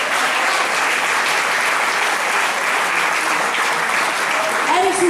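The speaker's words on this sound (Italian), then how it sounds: "Facciamo un altro applauso." An audience claps steadily and loudly for a band at a music group festival, a dense and continuous applause that holds an even level throughout.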